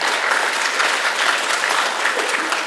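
Audience applause filling a hall, dense steady clapping from a large crowd, loud and continuous throughout.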